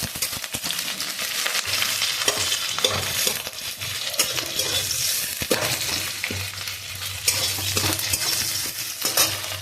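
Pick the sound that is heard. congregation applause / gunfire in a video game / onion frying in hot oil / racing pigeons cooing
onion frying in hot oil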